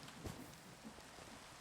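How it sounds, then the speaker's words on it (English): Faint, steady rain falls in Minecraft as a soft, even hiss with a couple of low rumbles, and no one speaks. "I don't like how it's raining."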